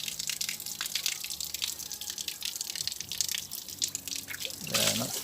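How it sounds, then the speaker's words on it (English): Water poured by hand into the exhaust side of a small engine, a gurgling, dripping trickle with uneven splashes, close and fairly quiet, ending in a fuller gush as it fills. "so put some water into there, and this is filling up on the exhaust side."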